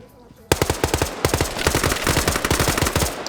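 Rapid automatic gunfire in a PvP shooter match on a biolab map crackles in a fast, steady burst of sharp shots after a brief quiet start, loud and close throughout.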